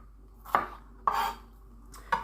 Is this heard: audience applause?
no